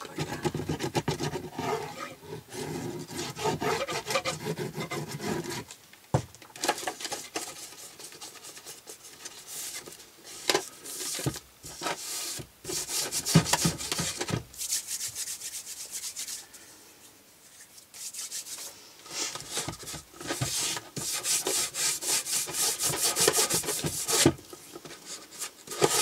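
Cardboard rubbed and pressed flat at a freshly glued corner while building a cardboard shelf unit with drawers, steady scraping friction in bursts with short pauses, close and fairly loud, no talking.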